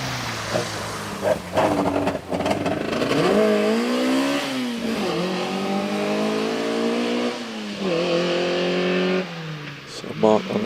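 Naturally aspirated rally car of up to one litre in the two-wheel-drive class pulls away from the start line of a hillclimb, its engine revving hard through rising and falling gear pitches, loud and close with a commentator talking over it.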